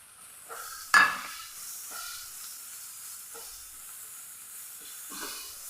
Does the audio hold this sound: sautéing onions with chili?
yes